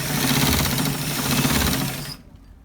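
A sewing machine stitches a shawl collar in one steady, loud run of rapid mechanical clatter that stops abruptly just before the end.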